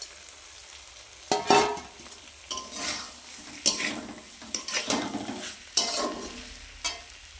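Small fried chuno fish tipped into a pan of potato and tomato curry, with clatters of utensil against pan, stirring and soft sizzling in irregular bursts, close and moderately loud.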